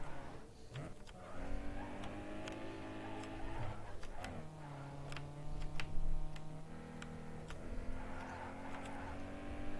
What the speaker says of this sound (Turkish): Ne garip sesler çıkartıyor arabanın motoru ya. Sanki ara ara kontağı kapatıyormuşum gibi.